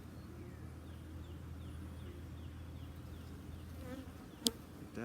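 Honeybees buzzing steadily around an open hive during a split inspection, a dense continuous drone close by, with one sharp knock near the end.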